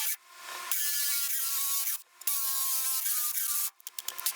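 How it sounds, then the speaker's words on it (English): A stepper drill bit boring through the metal door of a converted school bus: three loud, whining grinding bursts separated by short pauses, ending in a few sharp, stuttering catches. "let's take the stepper bit and come through the other side"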